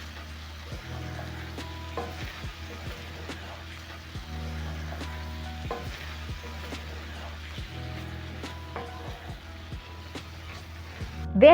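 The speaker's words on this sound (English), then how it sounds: "I'm going to add in coriander. Mix together with my matumbo." Tripe (matumbo) is stirred with fresh coriander in a pan while cooking Kenyan style, with a quiet sizzle under intermittent scraping and knocking of a spoon against the pan and a louder clatter at the very end.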